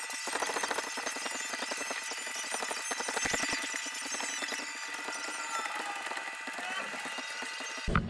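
A hydraulic tube bender works roll cage tubing for a Polaris KRX 1000, giving a continuous harsh mechanical whine and grinding with rattling pulses, loud and close throughout.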